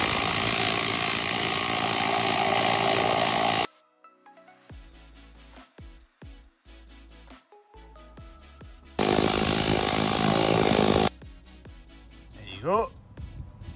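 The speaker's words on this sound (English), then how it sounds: "which will be perfect for the needle gun." A needle gun removes corrosion from a trailer in two loud, harsh rattling bursts of rapid hammering, separated by quieter scraping and clunking sounds, with a voice talking in between.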